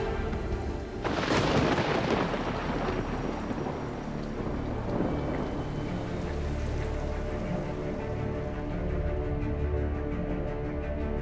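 A heavy thunderstorm in Texas, where a sharp crack of thunder breaks out and then rolls away over steady, dense rainfall that keeps a constant hiss throughout.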